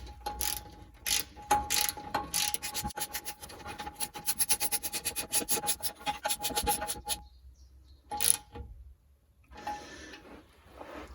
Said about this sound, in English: I can tighten it up with the spanners.